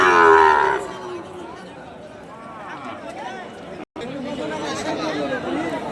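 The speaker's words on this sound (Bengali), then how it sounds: "দর্শক, অসংখ্য গরুই এই হাটে উঠে থাকে" Cattle at a busy livestock market moo loudly and nearby, with one long call at the start and more lowing later over a constant chatter of crowd voices.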